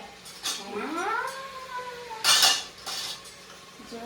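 A cat cries with a rising, drawn-out meow, then more faint mews, while a spoon clatters against a dish as rice is mixed in. Nearby kitchen clinks and light background noise surround it.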